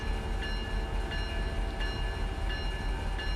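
A train in the Run 8 railroad simulator game runs with a steady low rumble and hum, with faint rhythmic clicks repeating roughly every half second throughout.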